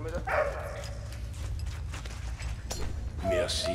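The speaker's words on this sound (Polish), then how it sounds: "Dobry piesek." A dog in the WWI video game Valiant Hearts gives a few short barks and yips over low game ambience and music, with a voice talking at times.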